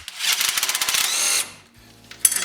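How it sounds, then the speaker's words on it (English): A power tool whirs in a rapid buzzing burst for over a second as it spins out a brake caliper bolt on a 2001-2005 Ford Explorer Sport Trac, then stops; a short metallic clink follows. "you can use power tools to take the bolts the rest of the way out."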